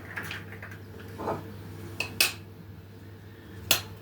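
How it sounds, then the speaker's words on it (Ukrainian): Homemade hard-shelled eggs are whisked in a bowl, producing quiet, scattered metallic clinks and taps against the dish rather than a steady rhythm. "Збиваємо наші яйця."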